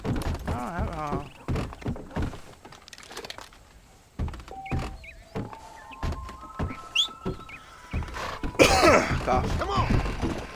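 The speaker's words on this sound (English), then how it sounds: "Cough." A character coughs and clears the throat amid Red Dead Redemption gameplay, with short bursts scattered over in-game thuds, hoofbeats and birdsong, plus a louder scuffle near the end.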